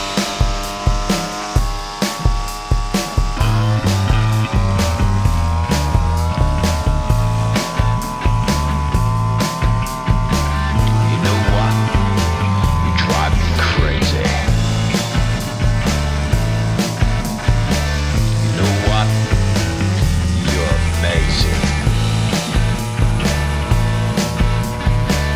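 A Bushranger L2600 petrol line trimmer engine idles steadily while warming up, a loud continuous buzzing drone with a strong low throb and harmonic whine that holds nearly constant throughout.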